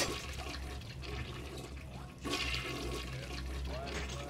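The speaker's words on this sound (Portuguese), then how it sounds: "Vai saber se a galera não deu descarga" A toilet flushing in the video game BioShock, a rushing watery surge that swells midway and fills the rest of the clip over a steady low game soundtrack.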